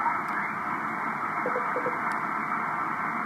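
Distant amateur radio station faintly heard on the band, a thin steady signal with brief tonal blips sitting under constant hiss and static, no voices.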